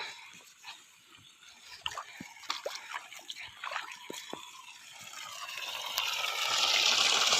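Water on an Indian farm trickles and drips at first, then builds into a steady rushing flow that grows louder toward the end.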